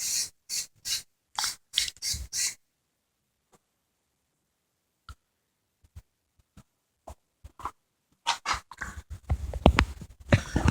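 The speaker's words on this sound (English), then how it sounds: "I'm gonna just spray this out a little." Several short, sharp hissing bursts of aerosol carburetor cleaner sprayed up close into an Ariens 5520 snowblower carburetor, then a quiet stretch with faint clicks before more rapid hissing sprays.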